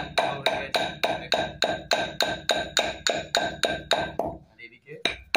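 Spices for a rohu and catla fishing-bait mix are pounded into powder, a brisk, even series of about fourteen close, heavy thuds that stops abruptly, followed by a few scattered knocks.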